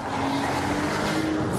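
A Porsche Boxster S with a 3.2-litre engine holds a steady, fairly loud engine drone with a sustained pitched note that shifts slightly partway through the short stretch.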